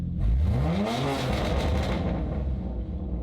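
An 800-horsepower car engine, not cold, roars up in one sharp, loud rev, its pitch climbing then settling into a rumbling idle, close by.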